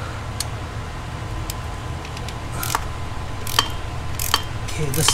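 Ratchet with a swivel extension working on stubborn, thread-locked bolts during engine removal on an Audi S4 B8.5, giving scattered short metallic clicks and ticks over steady low garage rumble, with some talk in the background.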